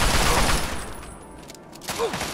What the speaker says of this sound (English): Who, who is shooting me?